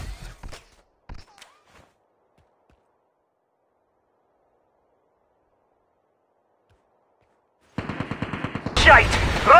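Automatic gunfire in Call of Duty Mobile battle royale bursts in near the end as a rapid, loud volley of shots after a long quiet stretch, with a few faint sounds early on.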